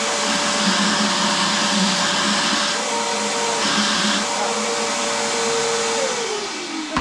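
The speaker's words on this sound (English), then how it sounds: "I think I need to hit it with a vacuum" A vacuum cleaner runs loud and close with a steady high whine and airy roar, sucking spider webs and debris off a rare Kawasaki F11M engine during a restoration, its tone shifting slightly as the nozzle moves.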